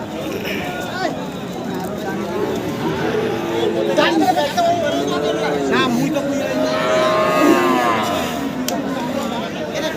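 Cows and Friesian heifers low repeatedly at a busy cattle market, their drawn-out moos rising over a steady murmur of crowd chatter and nearby voices.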